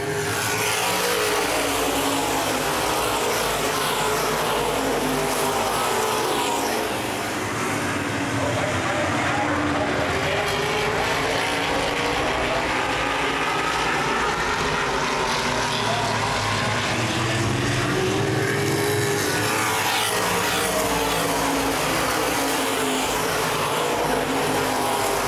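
Open wheel modified race cars at full throttle on the Baer Field Speedway oval, a loud, continuous roar of several engines swelling and fading as the pack passes, with a commentator talking over it.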